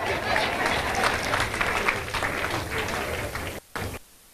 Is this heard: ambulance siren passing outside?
no